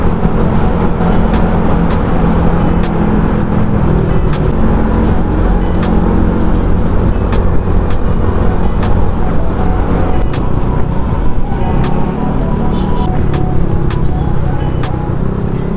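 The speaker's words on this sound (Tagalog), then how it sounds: "Dito traffic na talaga na to." Road traffic rumbling through the Quezon Avenue underpass tunnel, a steady loud wash of engines with vehicles passing close by throughout, enclosed and reverberant.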